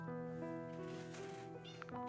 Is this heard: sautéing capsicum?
no